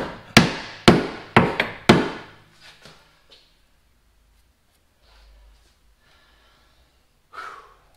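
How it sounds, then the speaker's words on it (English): Hammer blows pounding the inner fenders of a Jeep Compass, five loud close metallic whacks in quick succession, then a few fainter taps, followed by heavy breathing and a quiet stretch. "we've got those fenders pounded in on the inside there"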